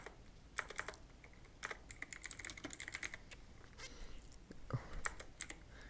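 Fingers tapping on a computer keyboard on a PC in quick irregular bursts of clicks with short pauses, close and soft, with no voices.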